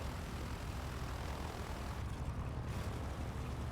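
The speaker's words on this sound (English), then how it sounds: "some radial noise going on" A light plane's radial aircraft engine drones steadily and loud throughout, a continuous rumbling roar heard from the cockpit on a long flight from Karachi to Jhansi.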